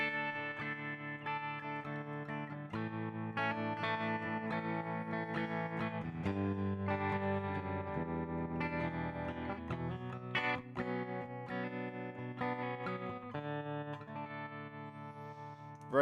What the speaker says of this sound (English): for the price point that you get with the Headrush, those tones are buttery smooth